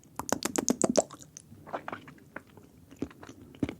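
Bites into a pale praline hazelnut chocolate spread with 54% hazelnuts, giving a quick run of close, crisp crunchy chews and mouth sounds that slow into softer, scattered chewing.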